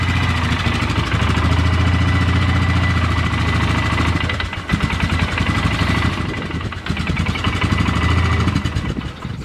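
Polaris Sportsman 6x6 Big Boss ATV engine idling after a carburetor repair, a loud steady low rumble with a brief dip midway, heard close and alone.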